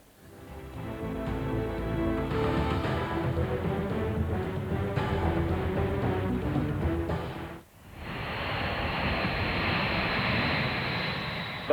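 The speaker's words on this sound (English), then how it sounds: "The planes are in the air" Military aircraft, including B-52 bombers, flying over Belgrade during the 1999 NATO Kosovo air campaign: a loud, steady engine roar that cuts off briefly and then returns as a broad, hissing rush.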